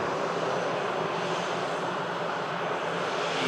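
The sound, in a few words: EasyJet airliner arriving from Paris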